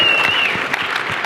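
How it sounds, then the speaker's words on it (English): A brief burst of dense clapping from a group, steady and lively, with a faint voice mixed in. "Round of applause"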